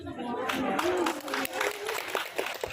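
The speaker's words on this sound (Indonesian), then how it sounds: "Aplaus dulu untuk Kepala Dinas Pertanian dan jajarannya" Applause for the head of the agriculture department and staff at a ceremony marking the 50th Agricultural Work Day in Kotim: a short, moderately loud round of clapping from an assembled crowd, mixed with some voices.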